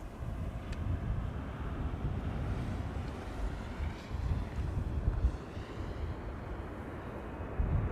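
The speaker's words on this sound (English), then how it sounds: "There's an A330-200 to Washington taking off right now from" An Airbus A330-200 takes off from the Kaagbaan at Amsterdam Schiphol Airport on a sunny day, heard as a distant, steady low roar mixed with wind noise.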